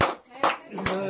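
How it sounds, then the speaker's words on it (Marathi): At a birthday cake cutting, a few separate hand claps ring out near the listener. Voices singing carry on between the claps. "आता त्यांनी फायनली केक कापलेला आहे आणि सगळे टाळ्या वाजवतात"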